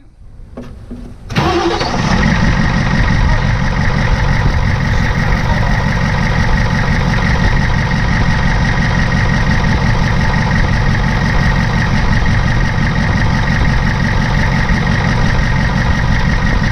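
A Ford F-350 with a 7.3 IDI diesel engine cranks briefly, then catches on its first startup and settles into a loud, steady, clattering idle that runs on without a break and with no voices.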